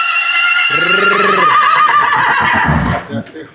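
A mare neighs loudly and close, a long wavering whinny that rises then trails off into snorting breaths.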